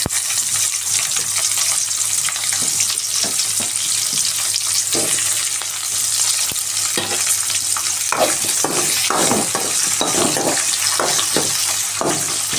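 Thinly sliced onion fries loudly in a pan with a constant dense sizzle, with occasional stirring clatters breaking through over about thirteen seconds.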